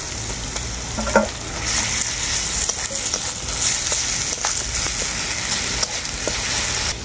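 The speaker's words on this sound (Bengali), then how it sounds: "আদা রসুন আমি দুটোই খুব ভালো করে ভেজে নিয়েছি।" Ginger and garlic paste fries in a pan while being cooked for a chicken curry, a close steady sizzle broken by occasional spatula scrapes and clicks.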